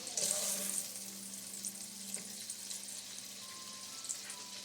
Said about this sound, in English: Browning up the second batch of sausage.